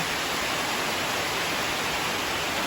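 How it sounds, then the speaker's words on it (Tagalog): A downpour driven by wind pounds on the roof of a house, a thick, constant roar of falling water, steady and near, with no talking. "sa sobrang lakas ng tubig, ng ulan at hangin, tumagos na naman yung mga tubig"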